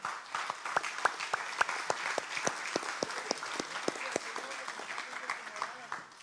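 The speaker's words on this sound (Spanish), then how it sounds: "Yo le daría palmas al Señor" A church congregation claps in praise during a Spanish-language Bible study, with crisp, rhythmic, evenly spaced claps that carry on steadily while faint voices murmur underneath.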